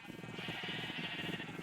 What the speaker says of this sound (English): Now we need to lure some sheep into here.